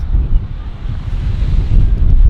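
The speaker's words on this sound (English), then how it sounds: "It's ocean breeze, some waves, sound." Ocean waves and breeze at an Alaskan shore, a steady low rumble of surf mixed with wind buffeting the microphone, loud and continuous without talk.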